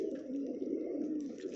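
Sherazi pigeons in a loft give a soft, continuous low cooing, close and fairly quiet, with faint rustling behind it and no speech.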